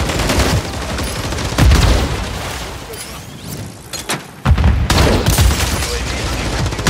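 Gunfire in a Call of Duty Modern Warfare 3 multiplayer match, loud bursts of rapid shots and heavy booms in quick succession, with battlefield voice callouts mixed in.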